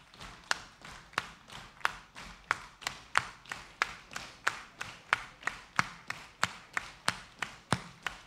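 An audience at a family matinee with a gospel choir keeps a steady, even pulse of sharp taps, roughly three per second, landing together in tight unison at moderate volume with no talk over them.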